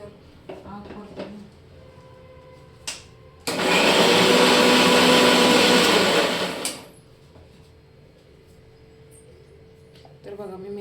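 A kitchen mixer grinder grinding masala runs in one loud, steady whirring burst of about three seconds, framed by quieter household clatter and a few clicks before and after.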